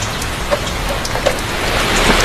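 Heavy rain falls outdoors as a dense, steady hiss with scattered louder drops, close and continuous, with no voices.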